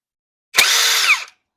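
A power drill or impact tool spins out the 10 mm coil pack bolts on a 2004 Toyota Sienna during a timing belt job, one steady loud whir of under a second that starts and stops abruptly.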